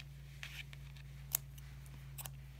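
Scissors snipping crochet yarn during a mini beanie tutorial: a few faint, soft clicks and one crisper snip near the middle, close and quiet over a low steady hum.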